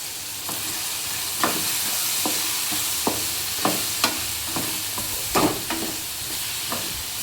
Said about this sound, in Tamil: அது பாட்டுக்கு வதங்கட்டும்